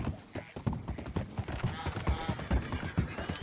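Horse hooves clip-clop in Red Dead Redemption 2, a quick irregular trotting patter mixed with game sounds and a voice talking over it.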